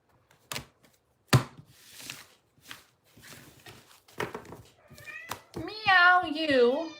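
A cat meows several times toward the end, long drawn-out cries close by, after scattered knocks and rustling handling noises.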